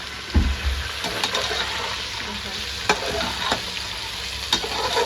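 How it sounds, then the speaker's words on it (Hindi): Steady sizzling of chicken frying in a pot with ginger-garlic paste, with intermittent scraping and clinking as it is stirred, close and fairly loud, no talking. "अब इसे थोड़ा सा अच्छा भून लेंगे, मिक्स कर लेंगे"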